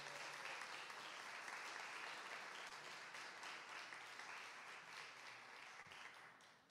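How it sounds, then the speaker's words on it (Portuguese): Sustained applause from a live audience at a university popular music show fills the space as a dense, even patter, slowly fading slightly toward the end. "Uma salva de palmas para ela, que ela merece."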